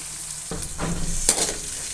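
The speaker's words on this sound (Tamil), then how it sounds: "வெங்காயம் நல்லா கொஞ்சம் நேரம் வதங்கி வேகட்டும்" Onions sizzle in a hot pan for semiya kichadi while a spoon stirs them with a couple of scraping swishes, close and steady, with no one speaking.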